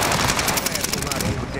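Rapid machine gun fire in a team shooter video game, a dense continuous burst of closely spaced shots filling the whole moment, loud and close.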